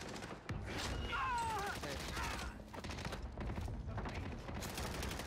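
Rapid bursts of gunfire rattle in Call of Duty Warzone on Rebirth Island, with fast repeated shots mixed into the game's noise and a player talking over the fire.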